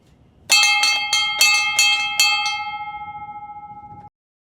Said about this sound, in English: Every day when the sun sets, we ring this bell, and it signifies that the day is over and the next day begins.